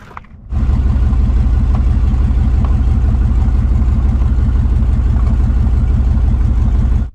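A GMT400 truck engine idles low and steady after a short quiet start, its constant loud rumble holding evenly throughout as the truck backs up slowly.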